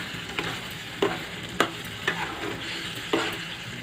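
Paneer pieces are gently stirred into a simmering palak (spinach) gravy in a pan, soft spoon scrapes and taps recurring every half second or so over a low steady sizzle, with no talking.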